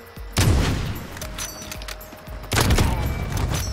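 Gunfire in a shooting video game: two heavy bursts of shots, one right at the start and another near the end, with a quieter stretch of game noise between them.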